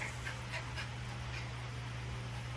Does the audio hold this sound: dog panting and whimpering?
yes